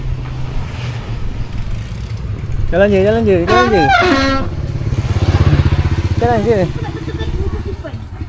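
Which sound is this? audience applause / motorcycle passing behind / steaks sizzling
motorcycle passing behind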